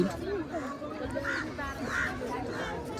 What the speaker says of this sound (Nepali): त्यो हाँसवाला है